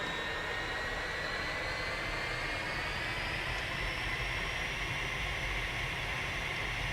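In the DCS World flight simulator, the L-39 Albatross jet engine spools up, and a steady, loud turbine roar builds as its rising whine climbs slowly in pitch, with no voices.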